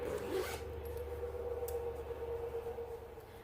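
A zipper on a donut-print fabric project bag is pulled in one short rasp near the start, followed by a low constant hum and a faint tick. No voices.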